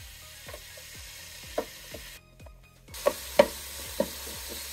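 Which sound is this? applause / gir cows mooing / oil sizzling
oil sizzling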